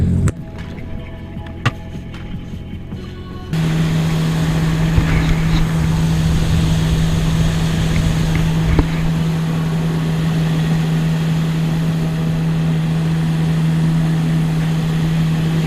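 A jet ski motor roars out over ocean swell on a fishing trip, starting after a few seconds of wind and water and then holding a loud, steady engine drone with splashes and wind buffeting.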